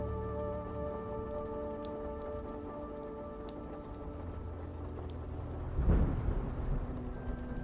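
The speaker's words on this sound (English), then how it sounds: "the steady patter of rain." Steady rain patters on a 1940s New York city street, a broadband hiss holding through the whole stretch, with a low hum beneath and a brief louder gush near the end; no one speaks.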